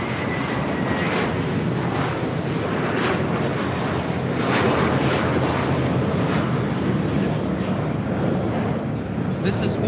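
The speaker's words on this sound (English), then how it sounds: "This is Una Nueva Mentalidad taking off to Fort Lauderdale, JetBlue Airways 1700 on an A321." A JetBlue Airways Airbus A321 takes off at LAX, its jet engines producing a loud, steady, broadband roar that holds for the whole stretch, with voices talking over it.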